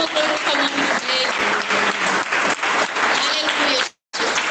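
A church congregation bursts into applause during a sermon, with steady, energetic clapping and voices mixed in, briefly cut off before resuming.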